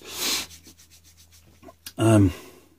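Sandpaper rubbing a tempered steel knife blade, heard as close, short scratchy strokes with a brief, louder rasping pass near the end.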